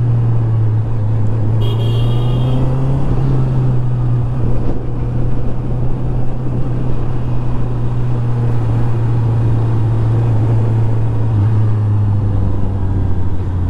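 A Honda car drives through Berlin's city streets near Unter den Linden, its engine humming low and steady under constant road and wind noise from inside the cabin, with no talking.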